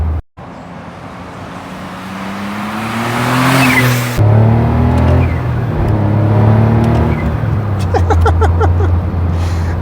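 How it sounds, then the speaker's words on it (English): Smart Roadster W452 small sports car accelerating on a real road, its engine note climbing loud and close with rising pitch, briefly dropping at a gear change, then pulling again with steady road and wind roar. "I don't think I've ever had so much fun accelerating up to"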